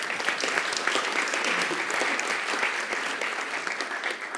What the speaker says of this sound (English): And I would like to ask the public a kind of applause for what Libor has meant for me.